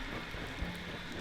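Steady rain hisses down outdoors near a lake in Hokkaido, a dense, even wash of sound with a faint low rumble beneath and no voices.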